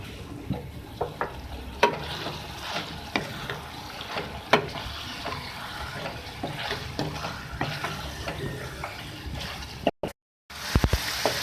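Chicken karahi sizzling and frying in a pan while salt and green chillies go in, with steady hiss broken by a few sharp stirring clinks, then a brief drop to silence near the end.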